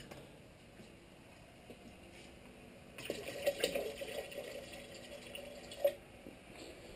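Water pours and splashes into a container holding sugar for home brew cider, starting about midway as a close, bubbling trickle with small drips, fairly quiet overall.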